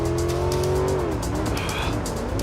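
A sky car chase in the video game MindsEye: a steady, loud engine drone runs throughout, with a higher tire-squeal whine rising briefly about midway and a faint voice underneath.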